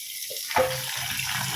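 Cold water poured into freshly boiled rice, a sudden steady gush of water that starts partway through and keeps flowing to the end.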